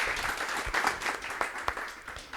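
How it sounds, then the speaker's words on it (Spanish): An audience at a clinical case competition applauds, a dense wash of many hands clapping at once, steady and fairly close, with no clear speech. "Un aplauso."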